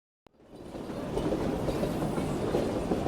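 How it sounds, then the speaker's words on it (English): A video-game train pulling into a station: after a brief click from silence, a steady rumbling roll with soft rhythmic clatter swells and holds at moderate loudness. "the next train arrived"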